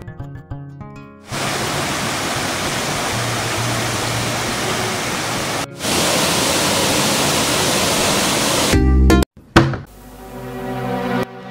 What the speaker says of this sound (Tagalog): At mula dito ay kitang kita ko na ang talon.